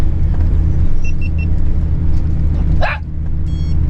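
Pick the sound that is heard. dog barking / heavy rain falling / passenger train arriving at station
dog barking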